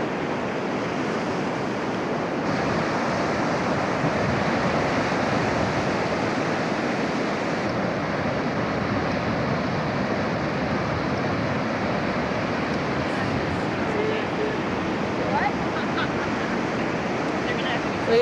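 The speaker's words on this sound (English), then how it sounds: "The ocean" Ocean surf rolling onto the shore at Arcata, an unbroken roar of waves mixed with wind buffeting the microphone, steady and fairly loud throughout.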